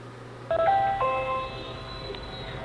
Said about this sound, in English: you can hear the Ring doorbell going off,